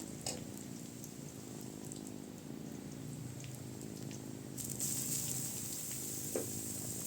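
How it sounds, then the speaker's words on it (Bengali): Onion and green chili frying in oil in a wok, a continuous soft crackling sizzle with faint stirring scrapes, steady and close, with no voices. "এখন একটা কড়াইয়ের মধ্যে তেল দিয়ে দিলাম। পেঁয়াজ ও কাঁচামরিচ একসাথে দিয়ে দিব।"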